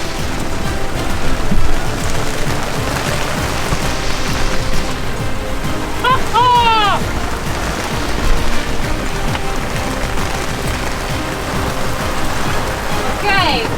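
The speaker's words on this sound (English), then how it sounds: "This is actually hail coming from the sky." Hail pelting down at sea aboard a sailboat on a rough Atlantic passage toward Portugal, a steady dense patter over wind and water noise throughout, with a brief whistling squeal midway.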